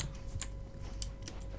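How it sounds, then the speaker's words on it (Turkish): Quiet mechanical keyboard typing with a few sharp, spaced clicks and clacks, close by, with no talking, while playing PUBG. "mekanik klavye olduğu için özür dilerim seslerden dolayı."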